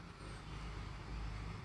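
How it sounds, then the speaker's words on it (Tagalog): Cars pass on a busy road near an airport in a steady, low rumbling wash of traffic noise, fairly distant and faint, with no voices. "Marami na ding sasakyan na ano, hindi tulad noon."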